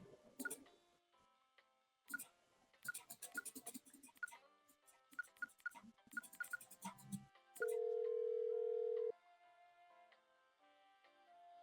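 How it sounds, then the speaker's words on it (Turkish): In the Laundry Store Simulator video game, scattered clicks and beeps come from a phone being dialed, followed by a steady, loud dial tone lasting over a second, then quiet game ambience. "Telefon."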